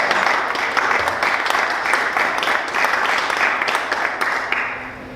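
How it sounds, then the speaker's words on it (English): A crowd at a welcome-remarks event gives a full round of applause for Laura, dense clapping held steady across the whole stretch before trailing off slightly at the end. "Let's give Laura a round of applause"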